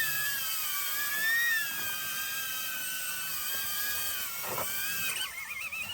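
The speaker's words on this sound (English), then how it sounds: "it's so trippy to hear it coming in over my head" A drone flying in overhead near the Hollywood Sign, its steady high-pitched whine holding throughout with wavering tonal bands, fairly loud and close, rising and shifting in pitch toward the end.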